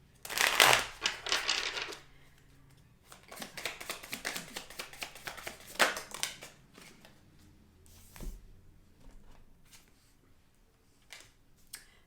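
A deck of tarot cards being shuffled in close, crisp riffling bursts, with a long run early on, a second extended bout, then scattered softer card flicks and taps.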